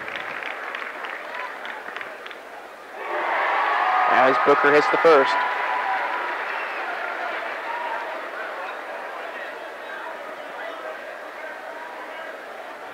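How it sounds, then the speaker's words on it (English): A high school basketball crowd in a gymnasium rises into a standing ovation for a senior player at a sectional final, with sustained applause, cheering and crowd roar building and lingering while a commentator talks over it. "Getting a good standing ovation from the Vincennes crowd."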